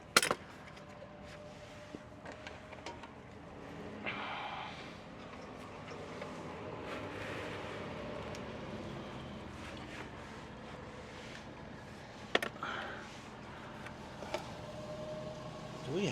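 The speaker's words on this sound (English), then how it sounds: "The wind." Wind blows outdoors around a truck at a roadside mobile mechanic job, a steady broadband rush with a few sharp clicks and bumps throughout.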